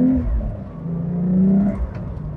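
A Porsche 911 Carrera T engine revving up through first, second and third gears with a manual gearbox, a loud, close, rising engine note that dips briefly between shifts.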